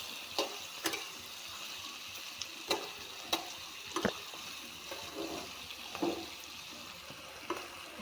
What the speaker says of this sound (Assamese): মাংস বহাই দিছোঁ।